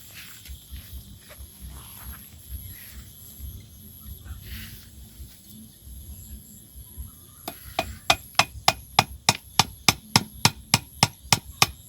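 Hammer blows drive wooden stakes in to prop up the branches of a jujube tree outdoors: about a dozen sharp, loud knocks in a steady rhythm arrive in the second half, after a stretch of quiet outdoor background.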